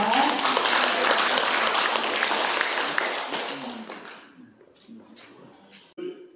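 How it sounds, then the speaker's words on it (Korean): An audience at a Korean cultural concert applauds a presenter, a full wash of clapping that holds strong for about four seconds, then thins to a few scattered claps and taps before a final louder clap. "큰 박수 부탁드리겠습니다."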